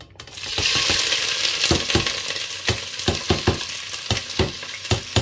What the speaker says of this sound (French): dans la casserole, on va commencer par mettre nos oignons. Je vous rappelle que l'huile est bien chaude.